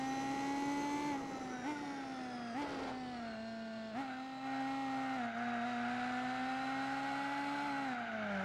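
Pagani Zonda race car engine in Gran Turismo 4 holds a steady high-pitched drone, rising and dipping in pitch with brief shifts, loud and continuous throughout with no talk.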